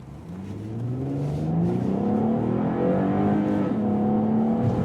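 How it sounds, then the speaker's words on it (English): A 2012 Cadillac CTS4 AWD performance coupe accelerates from inside the cabin, engine pitch climbing steadily through a shift and rising again, a smooth, moderately loud revving whir with no talking. "We're going to give it a little bit of gas right here and see what it's like."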